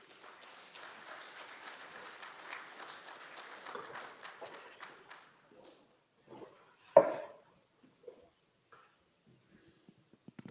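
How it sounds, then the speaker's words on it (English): At a cattle industry annual meeting, an audience welcomes a keynote speaker with applause. It sounds soft and fairly distant, fades after a few seconds, and gives way to a sharp thump and scattered small knocks. "let's give them a round of applause and welcome Tom up from the podium"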